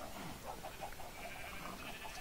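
Sheep bleating in the Minecraft video game, a few short repeated calls in a steady rhythm over a busy background of game sounds, with no talk.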